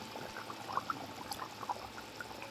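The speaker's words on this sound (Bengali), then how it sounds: "তরকারিটা কিরম ফুটছে টকবক টকবক করে।" Fat-laced country chicken curry simmering in a pot over a strong fire produces faint, soft bubbling pops over a quiet, steady hiss.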